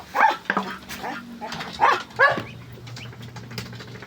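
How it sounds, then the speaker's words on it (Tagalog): Dogs kept alongside ducks on a small farm bark in several sharp, close bursts. Someone talks over and between the barks. "ay mga aso oh yan mga aso kasama ng mga patong pinalaki ko"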